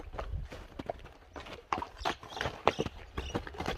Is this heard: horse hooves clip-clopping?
yes